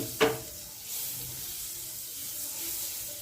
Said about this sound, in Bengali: আমুল বাটারটা মেল্ট হতে দিচ্ছি।